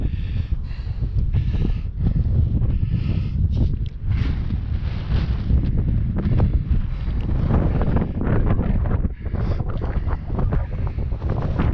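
Chilly wind on a mountain peak, gusting steadily and buffeting the microphone with a loud, continuous low roar that rises and falls across the whole stretch.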